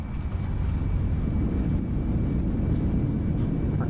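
Airbus A320neo thrust reversers roaring after touchdown in Microsoft Flight Simulator: a steady, loud, dense low rumble that holds without a break throughout.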